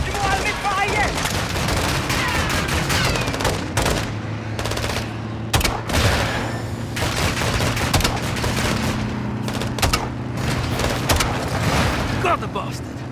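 Light machine gun fire in Call of Duty Modern Warfare 2 erupts in repeated loud bursts with sharp, closely spaced shots between brief pauses, over a steady vehicle rumble during a convoy chase.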